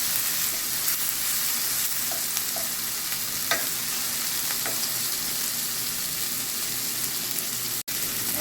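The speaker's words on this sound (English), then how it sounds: "I'm just gonna saute this and get rid of the potentness of the herb" Steady sizzling of herbs sautéing in a pan, with occasional soft clicks and stirring scrapes, no voices.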